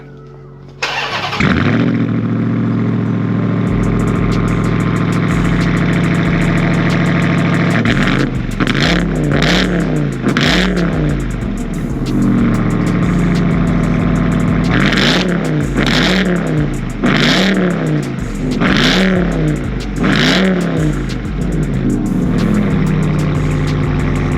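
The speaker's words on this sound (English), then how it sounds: "Why don't we hear what the truck sounds like pre-Catless?" A Dodge Ram TRX pickup engine with its stock catalytic converters starts, then settles into a rumbling idle broken by several sharp revs that rise and fall, the throttle blipped repeatedly close by.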